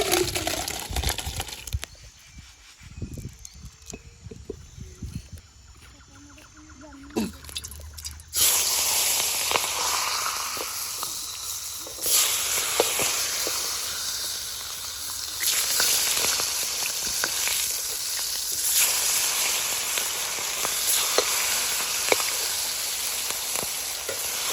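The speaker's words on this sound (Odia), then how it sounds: "ତାପରେ ତା ଛୁଙ୍କ ମାରିଦେବା।" Spices being tempered for a fish head and mixed vegetable curry hit hot oil, bursting into a loud, steady sizzle that fills the rest of the clip after some quieter clatter and stirring.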